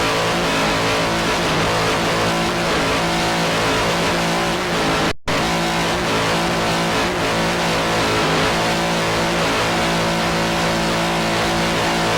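A racing powerboat engine roars loud and close from onboard, holding a steady high drone with throttle swells and one brief dropout midway through.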